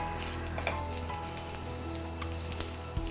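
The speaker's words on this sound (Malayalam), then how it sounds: "കാര്യം ഇത് നല്ല ഫ്രൈ ആയി കിടക്കുന്ന ചട്ടിയാണ്." Masala fries in a hot pan with a steady, close sizzle and occasional faint stirring scrapes, no voices over it.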